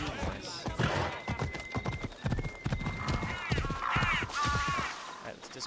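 Horse hooves clip-clop in a steady rhythm while riding in Assassin's Creed Odyssey, with occasional whinnies and someone talking over the hoofbeats throughout.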